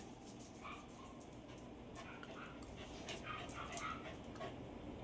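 A neighbor's dog barks and yips in short bursts at a distance, with whimpering between, over a steady rumbling background.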